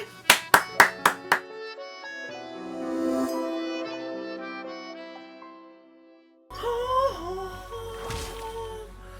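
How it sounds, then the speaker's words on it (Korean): A person claps during a League of Legends stream: five sharp, close hand claps in quick succession, followed by sustained tonal, music-like sounds. "우리 모두 박수 한번 더 칩시다"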